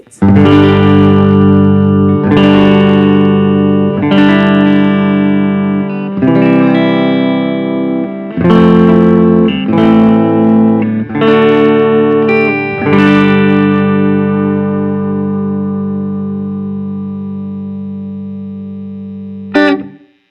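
Electric guitar chords played dry through a Strymon Iridium on a pedalboard, strummed one after another and left to ring, with a slightly gritty edge, ending on a long sustained chord that fades.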